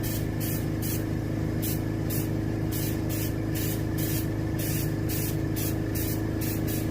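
Light mist of spray paint hissing from a can onto a striped bass fish mount, in short repeated bursts of steady close spray over a low background hum.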